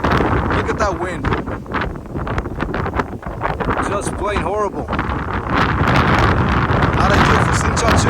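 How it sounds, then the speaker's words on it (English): Strong outdoor wind buffeting the microphone at a slingshot shooting setup, a loud continuous roaring rumble with gusty surges, while someone speaks briefly over it. "When I said it was a windy day, it is no joke. Look at that wind."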